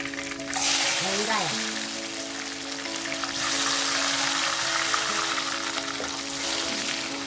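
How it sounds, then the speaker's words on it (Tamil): Onions sautéing in a pan with curry leaves and green chillies for a Chettinad fish curry, a steady broadband sizzle running the whole time with a brief tonal sweep early on. "வெங்காயம் நல்லா வதங்கணும்"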